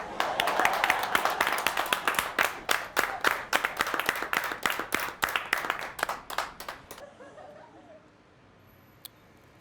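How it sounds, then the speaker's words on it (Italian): Studio audience at an Italian comedy sketch breaking into brisk, loud clapping that continues for several seconds, then thins out and fades to near silence, leaving one faint later knock. "Non me lo fate l'applauso?"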